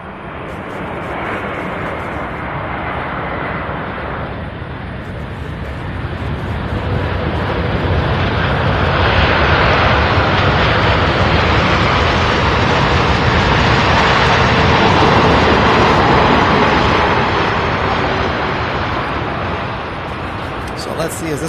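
An arriving airliner inbound from Dallas at Louisville International Airport gives a broad, roaring engine rumble that swells louder through the middle and eases slightly toward the end, heard from fairly close range.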